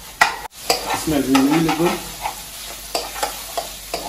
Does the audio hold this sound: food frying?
yes